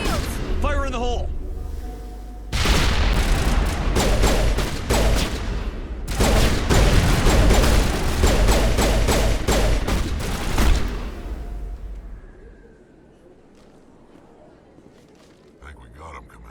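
Heavy video game combat in Mass Effect with loud rapid gunfire volleys and a grenade blast, all dense and close, while voices shout over the action before it fades to quieter sounds.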